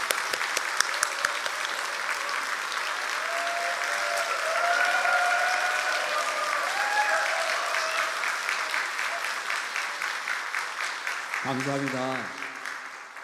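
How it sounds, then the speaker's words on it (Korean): Sustained audience applause in a church hall welcoming a guest elder to the stage during a harvest thanksgiving service, steady clapping throughout, with someone briefly speaking over it near the end. "큰 박수 부탁드립니다"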